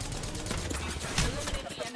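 Gunfire in the video game Apex Legends: dense, rapid weapon shots blend into a loud, continuous barrage, with sharper cracks near the middle, over a busy backdrop that may include voices.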